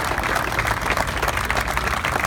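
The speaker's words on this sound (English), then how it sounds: "Can we give everyone a round of applause?" An audience applauds veterans at a Henry County event at Fort Thompson honoring the Manchu Warriors: a steady, dense wash of many hands clapping together, sustained throughout without a break.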